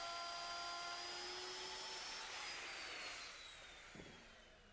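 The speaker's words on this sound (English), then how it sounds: "To do this, I'm using a 1-inch diameter roundover bit." Router with a 1-inch roundover bit shaping the edge of a wooden stair tread, a loud sustained high-pitched whine with a steady cutting hiss that slowly fades and drops in pitch toward the end.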